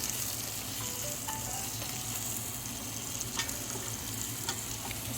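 Chopped garlic sizzles steadily in a hot pan while being stirred, a continuous close frying hiss with a few faint scraping clicks, no talking.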